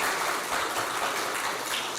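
An audience at a diabetes symposium applauds, a continuous wash of clapping hands heard fairly close and even throughout.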